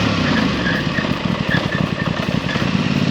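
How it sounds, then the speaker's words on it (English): An Aprilia Tuono 660 motorcycle decelerates under hard rear braking from about 40 km/h in first gear, its engine note droning and pulsing close by with a rough, uneven rumble throughout. "Aprilia Tuono 660 brake test. Start with the rear. First gear, 40 kilometers an hour. Hard braking on the rear."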